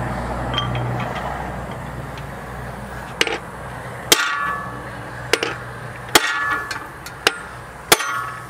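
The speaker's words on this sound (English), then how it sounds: "I'm gonna try a bigger hammer" Several loud, sharp metallic hammer blows on a seized 1962 Rambler engine at irregular intervals, each ringing briefly, over a low background hum.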